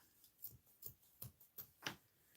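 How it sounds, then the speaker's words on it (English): Poor-quality scissors snipping through a small patch of lace, six quiet separate cuts spaced about every half second, close and faint with no talking. "Not the best scissors in the world."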